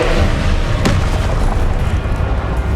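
Confringo fire spell explosion in Hogwarts Legacy: a loud, booming blast with a sharp burst partway through, thick rumbling low end, and a sustained roar that stays loud throughout.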